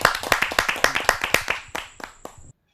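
Brief clapping from a kavi sammelan audience welcoming poet Dr. Rashmi Lata Mishra of Bilaspur, a few hands beating in a loose, close rhythm that thins out and stops after about two and a half seconds.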